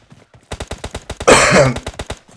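Rapid bursts of gunfire from a competitive shooter game scrim, a string of sharp, evenly spaced shots with a louder, denser volley midway, fairly close and with no talk over it.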